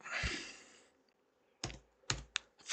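A computer keyboard is tapped in a few quick, close keystrokes typing text into carving design software, separated by brief quiet gaps after a soft rustle.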